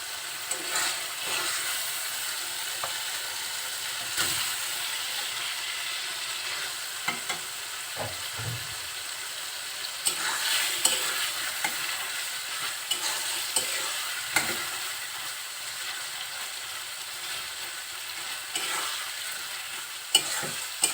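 Fish roe fries in spicy masala with a continuous close sizzle, while a spoon scrapes and stirs the pan in irregular knocks throughout, no voices.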